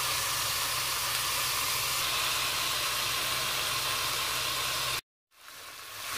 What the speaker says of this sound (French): Une fois que ma cocotte est chaude, je vais venir poser ma viande. Je vais bien la faire dorer